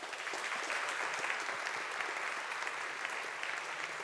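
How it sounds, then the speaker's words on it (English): Audience at the Cambridge Union debating society applauds journalist Robert Peston, a dense, even round of clapping from a large hall, steady and somewhat distant. "give a massive round of applause to Robert Peston"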